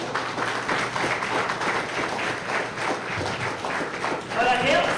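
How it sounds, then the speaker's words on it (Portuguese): A church congregation applauds, steady clapping from many hands filling the room and swelling slightly toward the end, with a voice speaking over it. "A igreja pode aplaudir o Senhor Jesus?"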